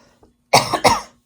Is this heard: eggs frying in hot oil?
no